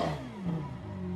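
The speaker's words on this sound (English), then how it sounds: "That's the loudest Aventador I've ever heard" A Lamborghini Aventador with an aftermarket Fab Speed exhaust revving, a loud, close, sustained engine roar with the pitch gliding down and then holding steady.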